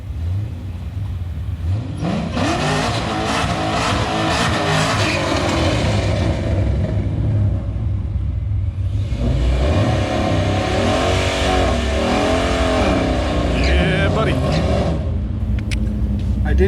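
Street cars drag racing against an SS Camaro with a Whipple supercharger: loud, continuous engine roar with rising revs and whine through two launches, a gear-change dip between, with voices talking over the noise.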